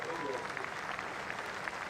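Cricket crowd at a New Zealand v England Test match in Wellington applauding steadily, a broad wash of distant clapping heard under a commentator's voice.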